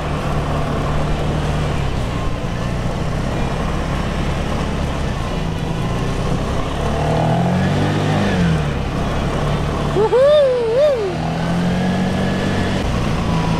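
Vespa LX scooter ridden on the road, the engine giving a steady droning hum under broadband road and wind noise, with a brief rising and falling whine around the middle.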